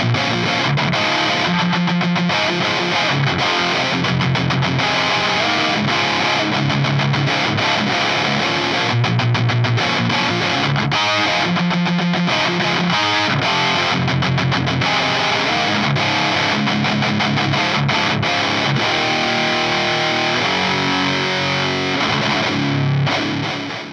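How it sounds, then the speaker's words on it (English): An electric guitar through a Lichtlaerm Audio Total Distortion Worship mk2 distortion pedal plays continuously and loud, heavily distorted, with chords and riffs sustaining throughout and no speech. "Lichtlaerm Audio's Total Distortion Worship Distortion Pedal"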